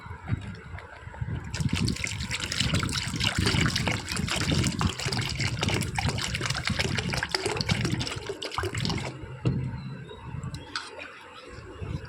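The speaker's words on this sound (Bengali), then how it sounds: "এবার জল দিয়ে দেবো" Water pours steadily for about eight seconds into a pot of sour lentil dal made with raw mango, a continuous splashing rush that starts abruptly and stops, with a quieter kitchen background before and after.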